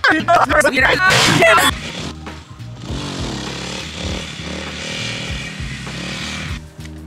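Motorcycle engine revving hard as the rider lifts the front wheel into a wheelie, loud, close and rising briefly, then dropping to a steadier lower drone while people shout and cheer.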